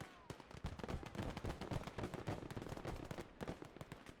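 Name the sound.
artillery fire in Call to Arms Gates of Hell Ostfront video game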